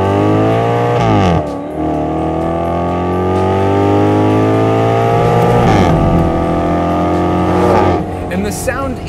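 A Maserati GranTurismo engine revving hard up close, loud rising and falling tones that climb through the revs several times with brief dips between pulls.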